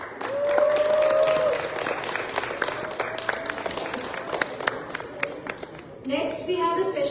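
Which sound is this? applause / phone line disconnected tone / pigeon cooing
applause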